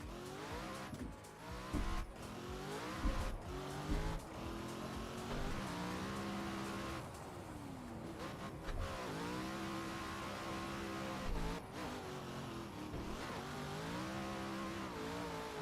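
Drift car in a racing video game, engine revving up and down in repeated sweeps with tire squeal and skidding layered in, loud and continuous, a few sharp gear-change breaks along the way.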